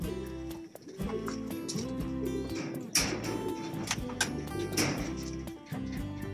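Racing pigeons being loaded into a basket for a third-lap derby race give soft, repeated cooing over a busy background with occasional clatter and shuffling; no one speaks.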